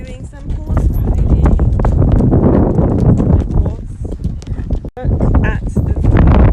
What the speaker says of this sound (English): We're just doing some horse riding.